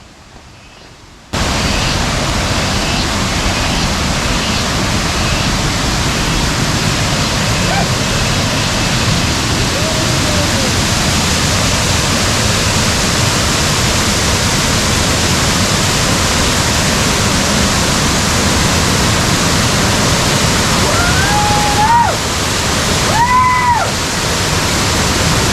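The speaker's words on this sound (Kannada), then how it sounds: "ಈಗೇನು ನೀವು ನೋಡ್ತಾ ಇದ್ದೀರಿ ಇದು ಎರಡನೇ ಜಲಪಾತ" Abbi Falls in Coorg pours down in a steady, loud broadband roar of falling water that fills the whole stretch after a quiet opening second, with a few faint whistling tones near the end.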